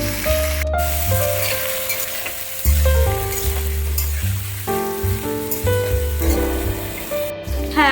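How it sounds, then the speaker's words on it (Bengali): Green beans frying in hot oil in a home kitchen pan, a steady loud sizzle with bubbling crackle throughout, joined by bursts of stirring and scraping, no talk. "এবার বিনসটা ভেজে নেবো লাল লাল করে।"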